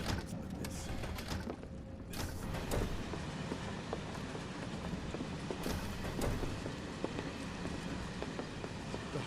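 A moving train in the video game Final Fantasy VII Remake, a busy rattling rumble with clattering rhythmic knocks and hiss, steady and fairly loud throughout with no speech.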